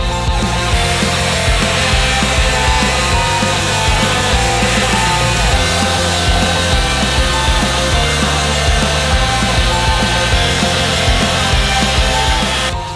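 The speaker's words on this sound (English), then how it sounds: "next test we're going to do some sanding and we're going to check out the vacuum attachment" A DeWalt brushless cordless multitool sanding with its vacuum attachment fitted gives a steady, loud, continuous buzzing drone close by, with no talking.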